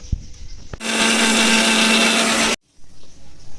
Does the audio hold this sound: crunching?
no